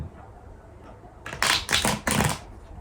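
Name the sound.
shuffling tarot cards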